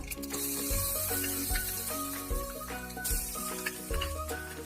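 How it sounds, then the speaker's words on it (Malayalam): Steady sizzling of urad dal and mustard seeds frying in hot oil, with repeated scraping and stirring sounds from a spoon against the pan, close and continuous. "1 ടേബിൾ സ്പൂൺ ഉഴുന്ന് പരിപ്പിട്ട് നന്നായിട്ട് ഇളക്കി കൊടുക്കാം."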